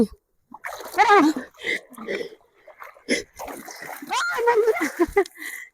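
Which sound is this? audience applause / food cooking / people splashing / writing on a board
people splashing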